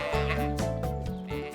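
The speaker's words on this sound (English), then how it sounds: "Oh, no, it's the sheep." Cartoon sheep on a farm give several close, loud bleats in quick succession, a wavering, nasal sound with no talking.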